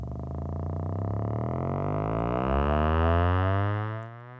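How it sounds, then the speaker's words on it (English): Layered, steady unstructured sine wave tones drifting slowly in pitch, forming a smooth, droning chord that swells slightly before fading out. "Unstructured sine waves may also sound like this."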